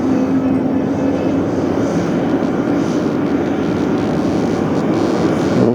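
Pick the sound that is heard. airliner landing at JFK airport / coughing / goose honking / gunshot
airliner landing at JFK airport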